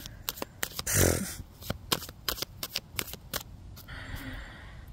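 Playing cards are shuffled back into a deck in a series of crisp riffling clicks and flutters, close up, with an irregular rhythm and a brief louder rustle early on.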